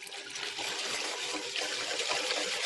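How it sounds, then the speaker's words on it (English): Water gushes steadily from a tap into a pot for homemade corned beef, a continuous loud, close rushing pour with no talking. "Now I'm going to put some water here."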